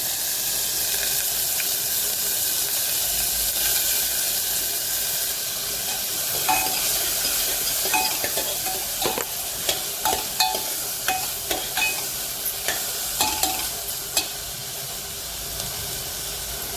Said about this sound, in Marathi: कांदा टमॅटोपासून एकदम घालत आहे